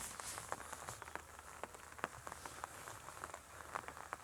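Rain pattering on open farmland with ripening grain crops, a steady wash of drops broken by sharper individual taps, close and fairly loud, no voices.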